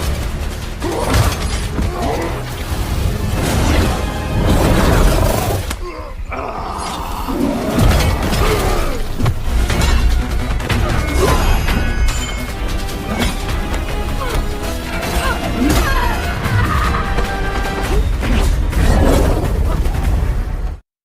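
Loud, continuous fight-scene soundtrack from the Mortal Kombat film, with a dense mix of crashes, impacts, shattering and booming hits. Brief pauses break the action, which otherwise keeps a steady high intensity throughout.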